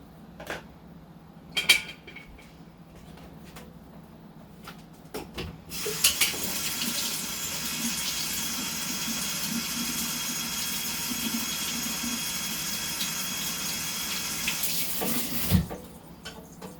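Homebrew fruit cocktail hooch is poured straight from a container without siphoning. A few clunks come first, then a steady, splashing pour runs for about nine seconds before stopping with a final knock.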